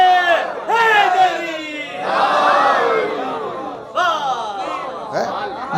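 A large religious gathering at a majlis raises loud chanted slogans in unison, swelling voices from a packed crowd in two or three bursts, close and dense.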